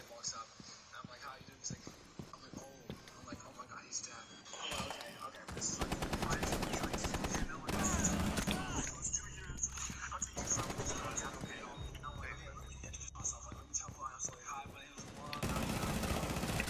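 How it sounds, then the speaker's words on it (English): Gunfire rattles in a Tom Clancy's Rainbow Six match, with bursts of rapid shots and longer sustained volleys that come and go over several seconds amid game noise, while players talk under it. "All I hear is a bunch of gunshots."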